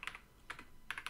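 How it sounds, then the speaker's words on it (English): Keys clatter on a replacement keyboard for a ZX Spectrum home computer, with a few quick clicky strokes, then a pause, then two more short bursts. The typing is close and fairly faint, with no talking. "They have a nice sound, and in general, it's a very nice keyboard."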